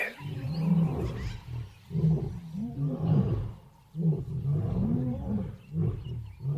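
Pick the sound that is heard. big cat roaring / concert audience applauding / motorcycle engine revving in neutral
big cat roaring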